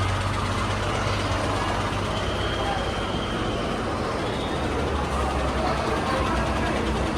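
A vehicle's heavy engine and road rumble run loud and steady throughout, close by, with dense low drone and broadband traffic noise and no clear fade.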